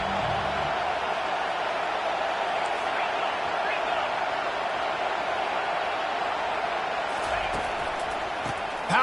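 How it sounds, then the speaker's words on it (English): A stadium crowd at a football game roars steadily and loudly throughout, a dense wash of cheering that holds without a break for the whole stretch. "Listen to this crowd just shaking the girders of this place"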